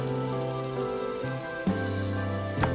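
Wheat flour garlic masala roti sizzles in oil on a pan, a constant rain-like crackle running under steady background music, with a brief sharper knock midway and another near the end.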